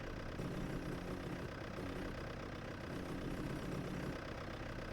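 A steady engine drone from a car being driven along a detailed highway in the retro shooter HROT, a continuous low rumble held at an even level for the whole stretch with no talk over it.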